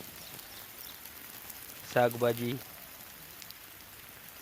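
Sprinkler irrigation sprays water over a vegetable field on a dairy farm, a soft, even hiss like light rain running throughout, with a brief spoken word partway through.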